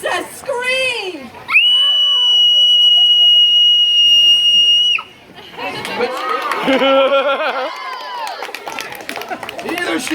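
Renaissance festival audience members let out a piercing, sustained shriek in imitation of a princess screaming, one shrill high voice held for about three seconds, followed by a wave of crowd shouting, laughter and chatter.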